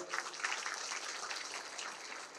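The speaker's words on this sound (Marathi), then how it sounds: "सगळ्यांनी टाळ्या वाजवून" Audience at a public event in Navi Mumbai, at the unveiling of a Buddha statue, clapping together in a steady dense wash of applause that holds for the whole stretch with no voices over it.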